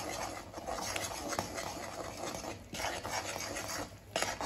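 A spoon scrapes and stirs as flour is worked by hand into a mixture for homemade Maharashtrian masvadi, giving a steady close-up rasping and rubbing with a few brief pauses.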